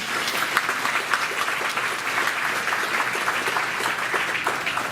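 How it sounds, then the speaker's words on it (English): A school board meeting audience gives a big round of applause for David Matthew, a full, even roar of many hands clapping that holds steady and loud throughout, with no voices over it. "Let's give David Matthew a big round of applause"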